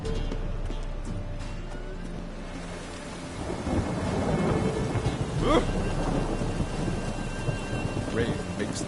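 Rain and thunder in The Witcher 3: Wild Hunt, with steady rainfall and a low rolling rumble of thunder that swells from the midpoint onward, loud and close, with no one speaking.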